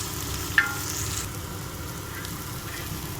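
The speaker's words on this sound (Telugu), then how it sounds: "కొంచెం పచ్చివాసన పోయే వరకు ఫ్రై చేసుకుందాం" Masala dosa filling frying in a pan, a steady soft sizzle with faint stirring scrapes and one brief clink near the start.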